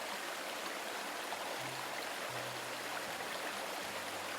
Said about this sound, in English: So right now I can hear the water trickling.